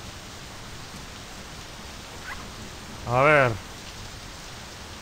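Rain pours down in the driving game My Summer Car as a steady, even hiss, with a voice speaking briefly over it partway through.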